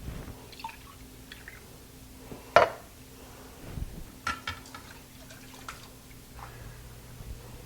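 Beef broth being sloshed around inside emptied tomato soup cans, with liquid splashes and drips, one sharper splash, then softer sloshing and clinks, close and fairly quiet, with no voice.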